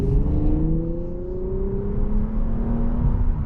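A 2021 Infiniti Q60 Red Sport 400 engine revving up as it accelerates, pitch climbing steadily, loud and close with a deep rumble underneath.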